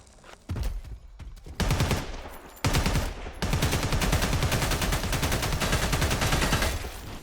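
In a Predator: Badlands trailer, short bursts of gunfire start after a quiet opening and build into heavy, unbroken automatic fire that keeps going to the end.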